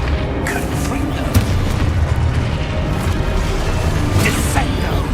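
Confringo blasting spell explosions in Hogwarts Legacy, a dense run of booming blasts and crashes over a constant rumbling game mix, loud throughout with no clear gaps.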